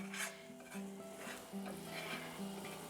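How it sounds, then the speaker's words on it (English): Roux for red chile being stirred in a pan: soft, close scraping and sloshing strokes with a faint sizzle and a steady tonal hum in the background, quiet and without speech. "So stir it around."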